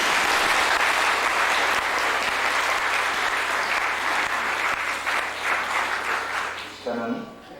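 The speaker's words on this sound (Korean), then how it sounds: "한번 경례박수 한번 하겠습니다." Sustained applause from a church congregation at a deacon ordination ceremony, steady and fairly loud for most of the clip before thinning out near the end, with a faint voice or tone entering under it at the close.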